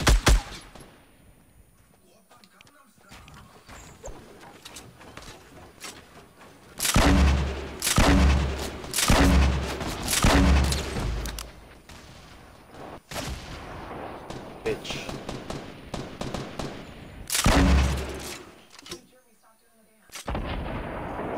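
Bursts of gunfire in the video game Fortnite: loud clusters of shots between roughly 7 and 11 seconds and again around 17 seconds, separated by quieter stretches with faint background game sound.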